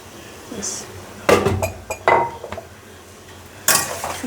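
A metal spoon scrapes and clinks against a cooking pot while goat head and chickpea dal are mixed, giving several sharp knocks over a steady background hiss.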